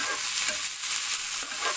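Potato fry sizzles in a pan as spring onion greens are stirred through, a close, continuous crackle of frying with scraping stir strokes.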